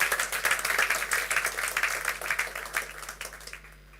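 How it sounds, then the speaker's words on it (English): An audience at a corporate presentation on a rights issue applauds with dense, steady clapping that gradually fades out near the end. "And I think that deserves a round of applause."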